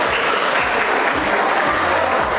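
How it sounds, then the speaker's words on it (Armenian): Loud, sustained applause from a family celebration crowd honoring a grandmother at a baptism and first birthday party, dense clapping that carries evenly throughout. "խնդրում եմ, բարձր ծափարություններ"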